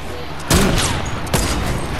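Gunfire in a shooter video game, with two sharp shots about a second apart, the first louder, over steady game background noise.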